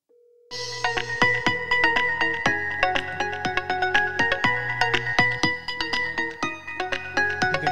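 Big Button VoIP desk phone ringing loudly and close by, a dense run of rapid electronic ring tones that starts abruptly after a brief moment and continues steadily throughout.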